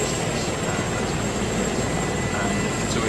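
A Comanche helicopter in the ArmA 3 video game gives a continuous loud rotor and engine roar. The noise is dense and steady throughout, with a bright high whine over it.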